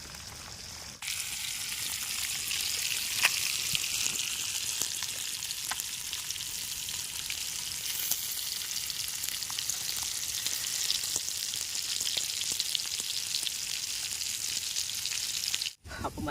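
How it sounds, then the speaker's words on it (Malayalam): Chempalli fish frying in a pan, a constant close hissing sizzle with scattered pops and spits that carries on steadily, then cuts off briefly near the end. "നമ്മൾ മീൻ ഒക്കെ ഫ്രൈ ചെയ്തുകൊണ്ടിരിക്കുക"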